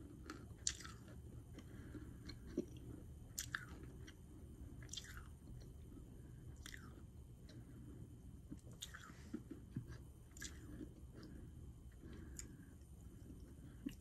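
Someone chews Black Star candy close up, with soft, irregular crunches and wet squishing bites scattered across a quiet background, without any talking.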